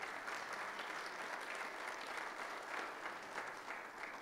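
A church audience claps steadily, a dense, even patter of many hands that holds throughout at a moderate distance.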